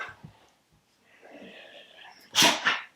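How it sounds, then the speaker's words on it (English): A dog gives a quick sharp sneeze up close, preceded by soft snuffling and faint whining breaths. "Oh, sneezes."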